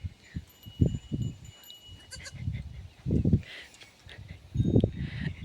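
A young goat kid bleats in several loud, close bursts at an open ground where a wrestling event is held, with short pauses between calls and background noise from the gathering.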